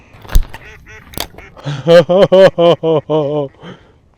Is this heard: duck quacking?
yes